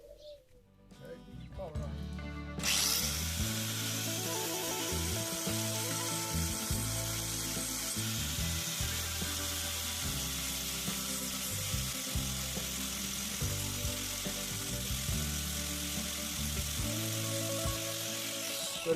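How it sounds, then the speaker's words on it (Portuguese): An angle grinder with a roughing disc cuts metal from the rear shock absorber mount of a 1982 Datsun Urvan E23 van, starting up with a rising whine and then holding a loud, steady, harsh grinding roar. "Usei um disco de desbaste para retirar a maior parte do material"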